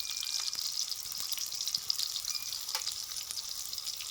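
Potatoes sizzle in hot mustard-style cooking oil in a home kitchen, a steady bright frying hiss with occasional pops and stirring clicks, close and continuous.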